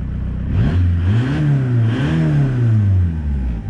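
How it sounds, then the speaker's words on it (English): A turbocharged TDI diesel swapped into a Mk2 Jetta free revs, its engine note climbing and falling twice in close, loud sweeps with a steady diesel clatter underneath. "Let's see if we just free rev it"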